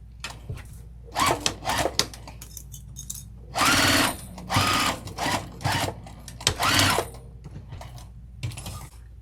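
A sewing machine stitching a crossbody bag runs in a series of short, sharp bursts, with a couple of slightly longer runs among them and quiet gaps of fabric handling between.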